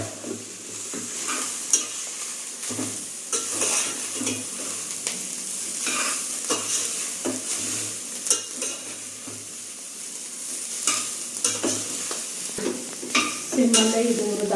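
Poppy seeds are stirred and dry-roasted in a pan over a low flame, giving repeated scraping and rustling strokes with a faint sizzle, close and fairly loud with no talking.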